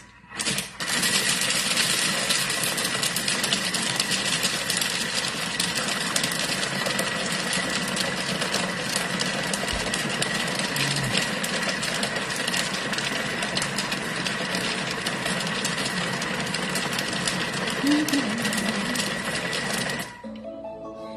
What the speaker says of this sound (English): now we're going to get the Thermomix to combine all of these. So around we go to speed number 3 for 20 seconds